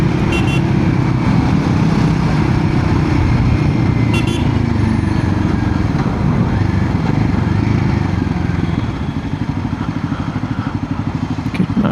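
A 2025 Royal Enfield Himalayan 450 motorcycle fitted with a Fuel X Pro Plus dual O2 sensor module is ridden at part throttle, its engine droning loudly and steadily with constant road and wind rush throughout.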